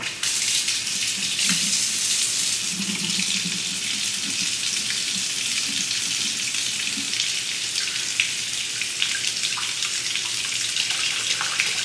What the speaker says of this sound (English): I'm going to put this under some hot water.